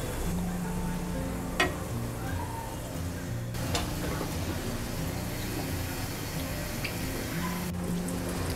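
Kat vada frying in a pan over a medium gas flame: a continuous sizzle and crackle of hot oil, with occasional sharp clicks as a spatula stirs and knocks against the pan.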